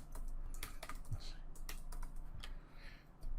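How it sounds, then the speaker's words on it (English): Text typed on a computer keyboard, a quick irregular run of close, crisp key clicks with brief pauses between bursts. "So for adding text, we just have to click on it and type."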